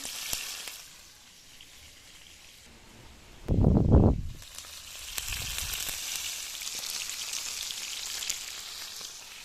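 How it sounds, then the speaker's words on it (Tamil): Sankara fish frying in a pan, a steady bright sizzle with a brief louder burst of spattering partway through, close and continuous with no talk. "சங்கரா மீன் பொறிக்க போகிறேன்"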